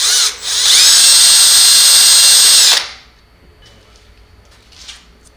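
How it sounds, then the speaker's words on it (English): A power drill bores mounting holes for the J bracket of an explosion-proof bug-eye LED emergency exit light, whining loud and steady for about two seconds, then cutting off and leaving a quiet room with faint handling noises. "You want to avoid drilling"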